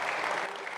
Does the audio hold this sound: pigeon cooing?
no